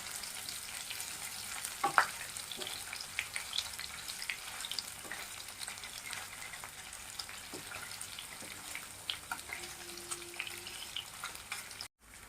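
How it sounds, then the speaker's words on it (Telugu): Paneer pieces fry in a pan, a soft continuous sizzle with occasional stirring taps and light scrapes, fairly quiet and close, with no talking. "ఇలా అన్నిటిని రెండో వైపు కూడా తిప్పుకుని రెండో వైపు కూడా గోల్డెన్ బ్రౌన్ కలర్ వచ్చేంత వరకు వేయించుకోవాలండి"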